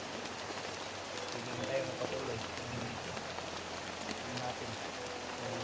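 Rain falls steadily outdoors among leafy vegetation, a soft, even patter heard throughout while someone speaks at times.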